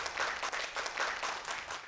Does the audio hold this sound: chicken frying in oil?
no